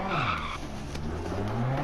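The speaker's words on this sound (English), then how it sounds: "Getting a little snap oversteer over these crests." Tires screech as a car slides in snap oversteer over a crest on a tarmac rally stage in DiRT Rally, over the steady drone of the engine, loud and continuous.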